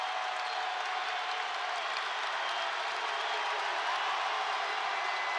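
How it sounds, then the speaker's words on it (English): A basketball crowd at Baptist Health Arena in Richmond applauds and cheers in a dense, unbroken roar of clapping that fills the arena, with a voice faintly underneath. "the crowd comes alive at Baptist Health Arena in Richmond"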